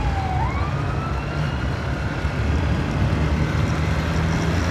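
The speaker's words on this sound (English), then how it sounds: "There's an ambulance or something coming." An ambulance siren wails in from a distance while driving, rising and sweeping over steady road and engine rumble, growing somewhat louder.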